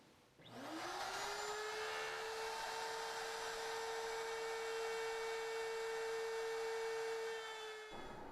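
A router guided by a jig cuts a rabbet around a dovetailed case for a dust frame. It spins up to a steady, loud, high whine that holds for about seven seconds, then cuts off.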